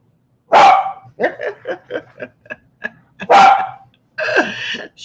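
An unruly dog barks loudly twice at close range, with a run of short rhythmic chuffing and snickering sounds between the barks, then a longer final bark-like yelp.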